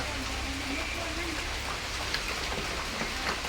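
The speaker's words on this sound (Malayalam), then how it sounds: "ഇതാ നല്ല മഴ പെയ്തുകൊണ്ടിരിക്കുകയാണ്" Heavy rain pouring steadily, a dense continuous hiss of drops hitting surfaces nearby, heard from a sheltered spot with a few louder drips standing out.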